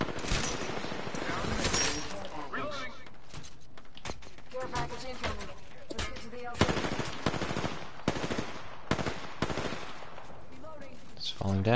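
Dense, continuous automatic gunfire in a shooter video game, rapid bursts and overlapping shots throughout, loud and close, with no pauses.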